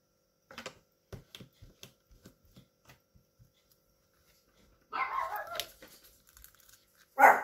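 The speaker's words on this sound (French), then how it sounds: "ma chienne était restée dehors" A female dog barks outdoors, a few muffled, fairly distant barks arriving after a run of soft paper crinkles and light tapping indoors.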